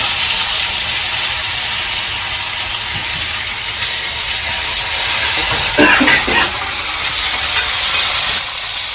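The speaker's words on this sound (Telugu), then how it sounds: "సో అలా లైట్గా ఫ్రై చేసుకుంటే కొంచెం ఆనియన్స్ వేసుకోండి." Onions and curry leaves fry in a pan for an Andhra-style gongura dal, a steady loud hiss and sizzle running throughout with a few sharper crackles near the end, and no talk.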